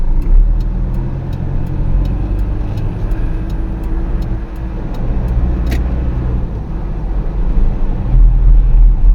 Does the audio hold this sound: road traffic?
yes